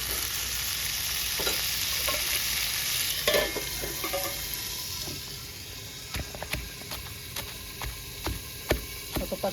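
Tomatoes fry and get stirred in a pan for a sesame-seed chutney, a bright hiss that fades partway through, followed by a string of sharp spatula clicks and scrapes, with nobody speaking.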